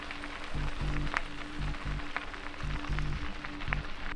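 Dense crackling and popping from a wildfire on a mountain bike route in Canada, with sharp snaps scattered over a steady rushing roar and a low, pulsing rumble underneath.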